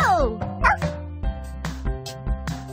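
Cartoonish puppy yips and barks in quick succession over bright music in a Dora the Explorer kids' game, several short high-pitched calls spaced unevenly.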